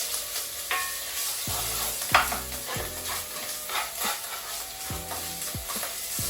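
Pork mince, garlic, ginger and vegetables sizzle in hot oil in a pan, with a constant loud frying hiss broken by repeated scraping stirs and light clinks of the utensil against the pan.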